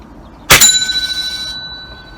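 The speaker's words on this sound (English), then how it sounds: "can you see it ringing the bell and the pellets come spitting over" An air rifle pellet strikes a metal target bell, giving one sharp bright ring that sustains and slowly decays over about a second, close and loud against a quiet background.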